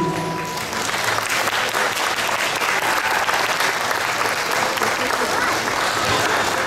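Sustained audience applause after a Bengali dance performance at an association show in Manitoba, a dense, loud, even roar of clapping filling the whole stretch.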